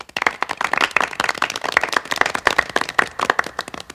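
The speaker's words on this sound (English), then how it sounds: "she deserves a round of applause as well." Clapping from a small audience at a Vision Beyond Sight event, a close, uneven patter of individual hand claps lasting the whole stretch with no voices over it.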